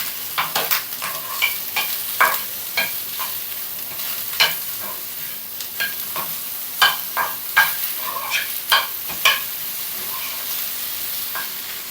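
Ridge gourd pieces with turmeric stirred in a pan: a steady soft sizzle broken by repeated close scraping and clattering strokes of a spoon against the pan, loud and irregular, with no talking.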